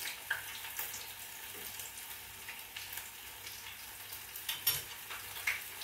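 Jamaican-style dumplings sizzle and crackle in hot oil, a steady frying hiss broken by small pops and occasional stirring scrapes.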